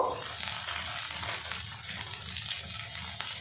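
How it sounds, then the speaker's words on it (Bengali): Thinly sliced onion and chopped green chilli fry lightly in oil for a brinjal dish, a steady close sizzle and crackle with no pauses. "দিয়ে দেবো একটা বড় সাইজের পেঁয়াজ পাতলা করে কেটে নিয়েছি। দিয়ে দেবো ঝালের জন্য কাঁচা লঙ্কা কুচি। এগুলো আমি হালকা করে ফ্রাই করে নেব।"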